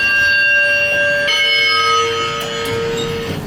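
A loud electronic chime from a Schindler 3300 machine-room-less traction elevator on arrival, sustained tonal notes shifting to a second tone partway through, then ringing out over a low hum.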